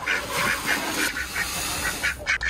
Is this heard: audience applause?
no